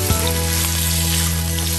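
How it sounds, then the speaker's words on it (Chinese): Pork ribs stir-fried over high heat in hot oil with scallion and ginger, giving a loud, steady, close sizzle with a low hum underneath and no voices. "炒香之后，我们再把排骨加进来，开大火把排骨爆炒3分钟"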